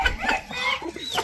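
An American Silky chicken, a fluffy-feathered breed kept on a family farm, gives a few close, loud, quick clucks in rapid succession.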